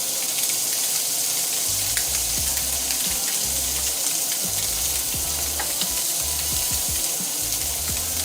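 Shrimp and scallops sear in a hot pan with a steady, loud sizzle and crackle throughout, with low rumbling and a few clinks beneath.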